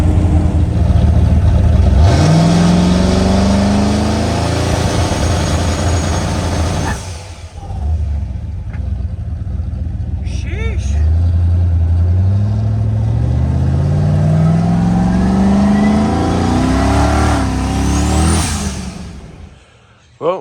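Turbocharged LS engine revving hard in repeated rising pulls, loud and close, with a lull between the two long climbs and a fade at the end.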